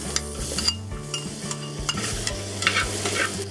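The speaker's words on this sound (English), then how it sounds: "And just toss this for about a minute." Pork belly and chestnuts with white green-onion pieces tossed in a claypot, a steady close sizzle and fry with stirring scrapes and light utensil clinks throughout.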